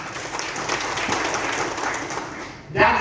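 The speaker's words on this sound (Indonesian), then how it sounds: "Kita beri aplaus untuk itu." Audience clapping at a school principals' and operators' socialization event, a steady wash of applause from a large crowd that swells briefly near the end before a voice cuts in.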